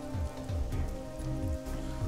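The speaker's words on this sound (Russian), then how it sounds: "Так, тут у нас дождик." Rain falls in the Teenage Mutant Ninja Turtles Legends video game as a steady, soft patter. Low tonal game music runs underneath, and no one speaks.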